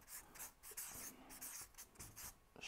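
A pen or marker writing on paper during a marketing talk for coaches, soft scratchy strokes that come in quick uneven bursts, close and faint with no talking.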